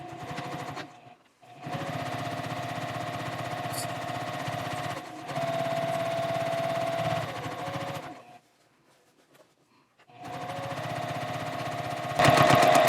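A sewing machine top stitching along the edge of a drawstring tote bag at stitch length 3.0, running in steady long bursts with brief pauses and a short stop before it starts again.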